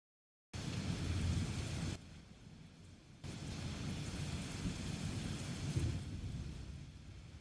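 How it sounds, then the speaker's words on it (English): Thunderstorm with steady rain and deep thunder rumble, a dense continuous wash of rainfall that briefly dips in volume before swelling again, heard alone without voices. "The thunderstorm sound."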